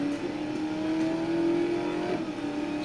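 A Maserati GT MC Stradale in the video game Need for Speed Most Wanted drives with a loud, steady engine note that rises slightly in pitch, heard alone without speech.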